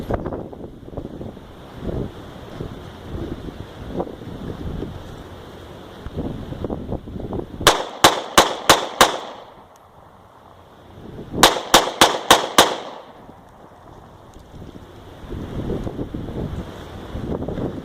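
A Sig P365 pistol firing 124 grain defense loads outdoors: two quick strings of about five loud, sharp shots each, separated by a few seconds, with wind rumbling on the microphone before and after.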